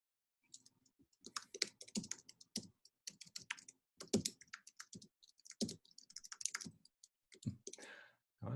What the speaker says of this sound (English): I bet you that's Jane typing